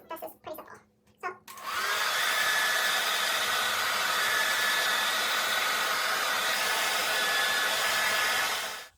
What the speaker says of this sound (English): I'm gonna start now with the blow dryer.